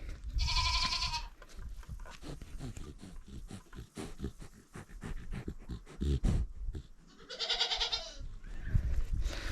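Young goat kids in a village bleat loudly and close by, two long cries at the start and near the end, with rustling, shuffling and animal panting in between.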